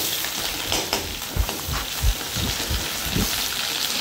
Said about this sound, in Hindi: यहाँ पे हमने डाला है प्याज, और उसके बाद से हमने डाला है सूखी मिर्ची